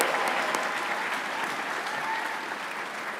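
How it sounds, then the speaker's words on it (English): Full, continuous applause from a graduation ceremony crowd at CT State, a loud wash of many hands clapping that tapers off slightly over a few seconds. "Y'all, you can clap."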